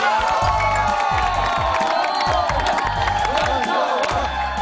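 Korean TV talent-show studio audience erupts in loud applause and cheering, with whoops and excited shouts over continuous clapping throughout.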